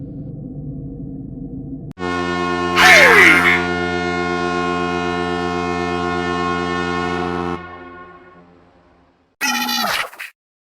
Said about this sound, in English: Why'd you wake us up by using the air horn and the foghorn sound effects?